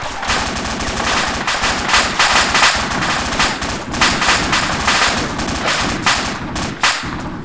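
Sustained loud gunfire in the video game ArmA 2 with the ACE mod, at a railway station: dense bursts of automatic fire and heavy booming shots overlapping continuously, with no clear pauses.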